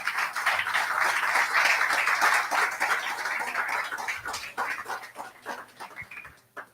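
A church congregation claps and cheers in a dense, lively burst of applause that fills the room, then thins and fades away over several seconds.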